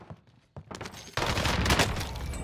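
Shotgun blasts in a Call of Duty match: a few sharp, faint reports early on, then a dense, loud burst of overlapping gunfire that fills the rest of the moment.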